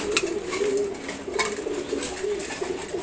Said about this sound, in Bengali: এটা মাদি কবুতর, এর এক জোড়া